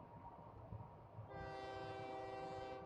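A train in a video game: a low rumble of rolling wheels, then a long steady horn blast that starts partway through and holds to the end, moderately loud with no talk.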